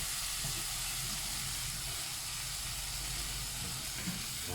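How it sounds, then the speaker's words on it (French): Shrimp marinade with a little water simmering in a pan for an Algerian fish dish, a steady loud hissing sizzle and bubbling that continues unbroken. "Je vais la mettre à mijoter 2 petites minutes."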